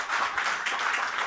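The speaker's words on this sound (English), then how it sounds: "just an applause" Audience applause at a public health plenary session, a short burst of dense clapping heard from within the hall.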